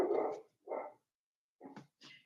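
Dogs bark indoors in four short separate bursts, fairly close, with gaps of silence between them and no talking.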